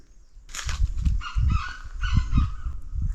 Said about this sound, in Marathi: इकडे जवळच ना रान कोंबडी ओरडते